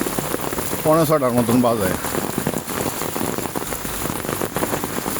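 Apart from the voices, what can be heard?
rain falling in Mymensingh town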